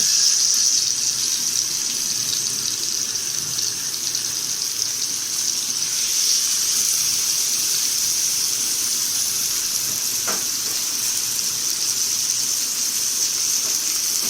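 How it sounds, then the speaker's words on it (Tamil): Masala-coated fish fries in a pan of hot oil, giving a steady, even sizzling hiss throughout with a single faint click partway through. "இப்போ மசாலா தொடைய வச்சுருக்க மீனை எண்ணெய் சட்டியில் போட்டு எடுத்துட வேண்டியது"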